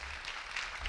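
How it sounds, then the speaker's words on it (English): Audience applause at an education event, a steady wash of many hands clapping filling the whole second at moderate, slightly distant level. "give Chris a round of applause really quickly."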